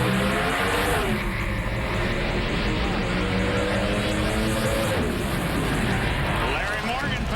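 Pro Stock drag race cars launch side by side down a quarter-mile strip at the 2008 NHRA Summit Nationals, engines roaring loud and steady with rising revs throughout, crowd and announcer noise mixed beneath.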